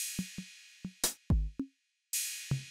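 Synthesized percussion hits from the Drum Synth Live plugin in FL Studio: a loose series of sharp, tonal drum and click hits with short decays, interrupted by bursts of bright noise and a falling pitched zap, loud and alone.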